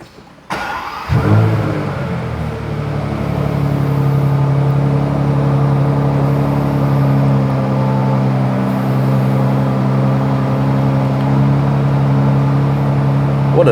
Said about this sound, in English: What a lovely sound, the engine.